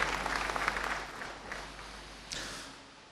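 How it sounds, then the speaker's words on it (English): A debate audience gives the panelists a brief round of applause, fairly faint and distant over a low hum, with a strong start that thins out and one late burst of clapping. "may I invite you to now give them a round of applause"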